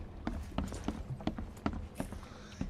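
Heavy, evenly spaced footsteps thud through a building interior in the horror game The Sinking City, about seven sharp steps in a steady walking rhythm over a low ambient rumble.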